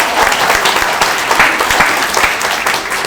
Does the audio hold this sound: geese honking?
no